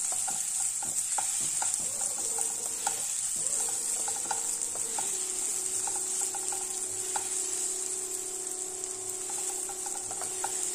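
Apple and semolina being sautéed in a pan on medium flame, a constant close sizzle with frequent light scrapes and taps of a spoon stirring.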